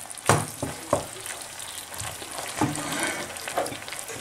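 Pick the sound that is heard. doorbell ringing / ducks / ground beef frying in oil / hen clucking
ground beef frying in oil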